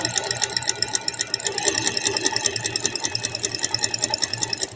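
Domestic sewing machine fitted with an overlock presser foot stitches at a fast, even rhythm, its rapid mechanical chatter steady and close, with no voices over it.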